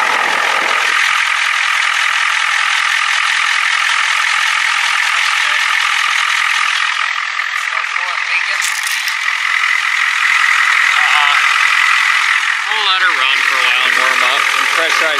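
A Ford 7.3 IDI diesel engine runs on after a radiator repair, a loud constant mechanical clatter with a dense ticking, knocking texture close to the microphone, steady throughout with slight shifts in tone near the end.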